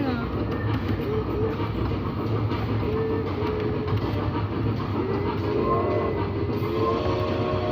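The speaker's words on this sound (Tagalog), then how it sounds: "Pumunta sa IMG si DJ para mag-choo-choo train" A choo-choo ride train at the IMG Worlds theme park in Dubai rolls along with a steady rumble and faint squeals, with muffled crowd noise and voices in the background.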